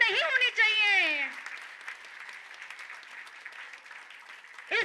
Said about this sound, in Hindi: तो जोरदार तालियां के साथ, तालियां बंद नहीं होनी चाहिए।